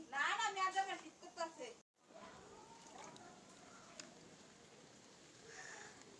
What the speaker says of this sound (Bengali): বৃষ্টি এখনো পড়ছে ঝিরিঝিরি